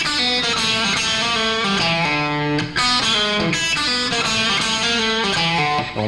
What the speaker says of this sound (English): Little blues thing. A little slide.